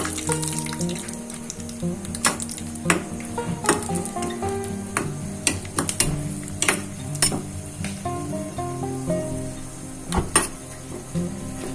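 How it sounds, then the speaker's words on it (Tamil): Cashew nuts frying in oil in a pan for bread halwa, a steady close sizzle with a spoon stirring and sharp clinks against the pan scattered throughout, no voices. "கேஷ்யூ நட் கொஞ்சம் லைட் ப்ரௌன் கலர் வர்றது வரைக்கும் ஃப்ரை பண்ணிக்கலாம்."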